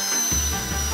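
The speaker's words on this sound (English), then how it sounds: "I'm gonna make the lollipop spin using a drill so I can lick it endlessly" A power drill spins a lollipop, a steady close whirring motor hum with a low rumble that starts abruptly a third of a second in and keeps going without a break.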